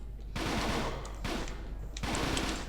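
Enemy gunfire in the Fighting Force 2 video game at the Nuclear Weather Outpost, heard as three dense bursts of rapid shots separated by short lulls, loud and close over a steady low hum.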